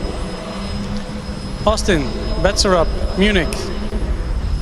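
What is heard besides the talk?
cooling fans on the Munich Formula Student race car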